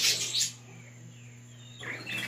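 Budgerigars chirp in breeding cages, including rainbow and Texas clearbody chicks with their parents, bright close tweets bursting at the start and again near the end over a low steady hum.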